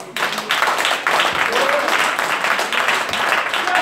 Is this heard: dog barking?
no